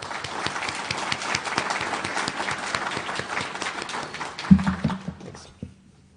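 An audience at a software testing conference keynote applauds steadily for several seconds to welcome the speaker, a dense patter of many hands that fades out, with a brief thump near the end.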